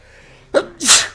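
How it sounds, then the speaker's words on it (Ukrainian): A single sharp human sneeze, close and loud, with a short quick intake of breath followed by a bright, hissing burst. "Трошечки чихнув я оце."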